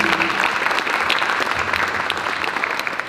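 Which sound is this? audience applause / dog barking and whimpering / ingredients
audience applause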